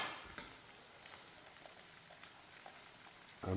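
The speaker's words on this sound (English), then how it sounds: "So I'm just going to put a little bit of the pasta water in there" Pasta water poured into a warm pan of carbonara and stirred, giving a faint, steady sizzle with soft scraping and a louder clatter right at the end; no talking.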